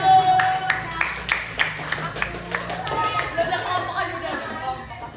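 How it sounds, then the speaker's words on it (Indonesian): Students in a classroom applaud classmates who came to the front, a burst of uneven claps that thins out under children's chatter and a teacher's voice. "Angkat tepuk tangan untuk yang sudah maju."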